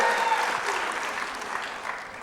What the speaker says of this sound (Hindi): तालियां वाली बस जोरदार बजा दीजिए इतने प्यारे डायलॉग के बाद।